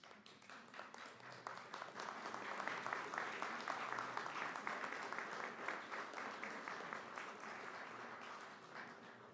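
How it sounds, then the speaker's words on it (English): Sustained applause from graduates at a spring community college commencement ceremony, a dense steady patter of many hands filling a large hall, holding strong throughout with faint voices underneath. "give them a round of applause for helping you reach your goal today"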